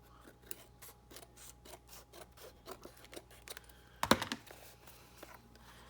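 Scissors trim excess covering paper from a small box, a run of quick, close snips followed by a louder burst of crinkling paper, with no voices.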